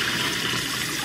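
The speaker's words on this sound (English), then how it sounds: "run some hot water, let the hot water run" Hot water runs from a tap in a steady, close, even hiss for about a second, with no voices.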